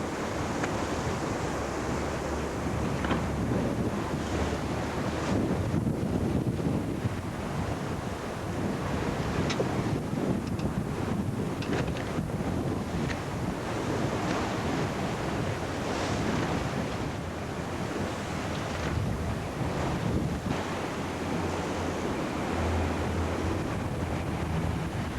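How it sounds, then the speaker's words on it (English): Strong wind of about 30 knots at sea aboard a racing yacht, with roaring gusts and rushing waves forming a loud, continuous wash with heavy wind buffeting on the microphone throughout. "The wind's got up to about 30 knots now"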